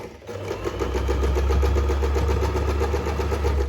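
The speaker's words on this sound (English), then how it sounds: "And then I'm going to start the sewing machine going." A motor whirs with a rapid, even mechanical rhythm, like a sewing machine running steadily up close, without talking.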